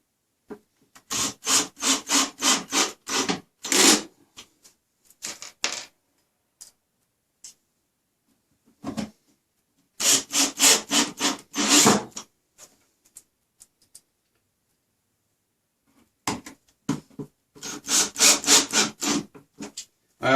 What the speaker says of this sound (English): the points on these screws are very sharp, so they don't seem to have any trouble biting into the underside of the tabletop